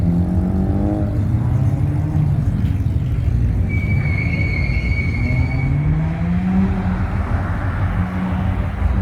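Cars leave a Houston car meet, engines revving and rising in pitch one after another with sweeping passes, a loud continuous roar and a sharp high squeal in the middle.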